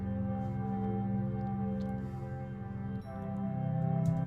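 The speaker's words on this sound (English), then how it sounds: "but if you just listen to the organ," A moody, sustained organ part from a composed soundtrack plays alone, with steady layered chords that shift to a new chord partway through, the level holding fairly even and swelling slightly toward the end.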